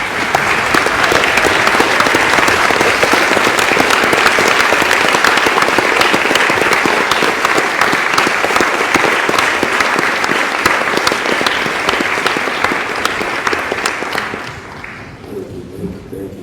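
Sustained, loud applause from a college audience welcoming a guest speaker to the stage, dense clapping running steadily for about fourteen seconds before fading out.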